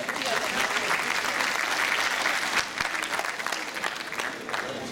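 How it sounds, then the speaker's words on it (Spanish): Loud, sustained applause from an audience at a school anniversary ceremony fills the hall, steady clapping with a few sharper claps near the end. "Fuertes palmas también para recibir a Karen."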